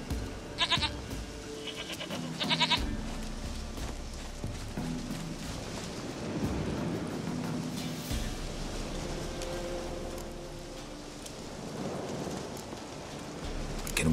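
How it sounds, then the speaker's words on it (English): A goat bleats in The Witcher 3, short wavering cries near the start over a steady ambient bed of outdoor game sound with soft hoof-like clops, the rest fading into low background noise. "Goat of mine! Dearest, sweetest goat!"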